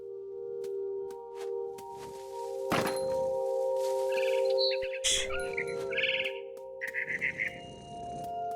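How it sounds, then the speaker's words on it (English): A frightened bird in the video game What Remains of Edith Finch makes a burst of flapping and several squawking, quacking calls over a steady low in-game drone, followed by a quick series of short chirps near the end. "I tried to be quiet, but the bird was really scared."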